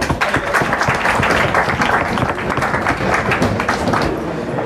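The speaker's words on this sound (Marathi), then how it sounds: "परत एकदा टाळ्या." An audience breaks into sustained applause, a thick wash of many hands clapping close by that holds steady before easing slightly at the end.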